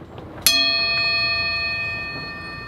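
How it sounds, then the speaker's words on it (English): A gong struck once, a sharp hit that blooms into a sustained bright ringing tone with layered shimmering overtones, slowly fading but still humming after a couple of seconds. "So here comes the gong."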